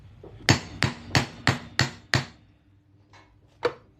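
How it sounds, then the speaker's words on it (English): A hammer drives a 1/2-inch punch through a silver Texas quarter coin: six sharp, evenly spaced metallic strikes, then a faint tap and one final strike, close and clear with no talking. "nice 1/2-inch punch. And we're just going to hammer that right on through there."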